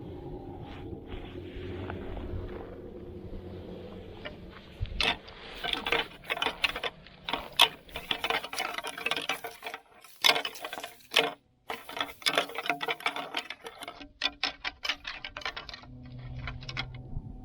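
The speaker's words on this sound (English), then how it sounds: "I know he can hear a rattle, so I just rattle real quick and see if what he does" A rattle call used to bring in Coues deer clatters in quick bursts of dry clicks and knocks, irregular and close, over faint outdoor background.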